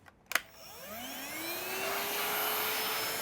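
A STIHL SEA 20 battery vacuum cleaner clicks on, its motor spinning up with a rising whine and then holding a steady, fairly quiet hum for a few seconds, with no talking.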